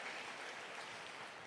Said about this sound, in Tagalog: Isang malakas na palakpak para sa mahal na Panginoon.